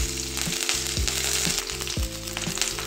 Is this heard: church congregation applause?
no